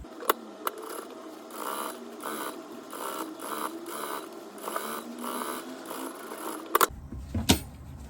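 A sewing machine stitches a fabric seam for a heart-shaped jewelry box, running in steady, close mechanical bursts of whirring and clatter before a few sharp clicks at the end.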